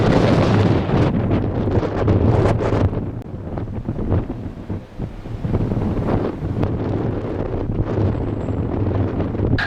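Strong wind at Madeira airport, about 23 knots from 210 degrees, roaring and buffeting the microphone in loud, continuous gusts that ease briefly midway before surging again, with no speech.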